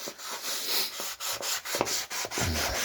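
An MTZ 80 tractor crankshaft is scraped and rubbed to clean pitting from its surface, a close, rhythmic series of rasping strokes with brief pauses between them and no talking.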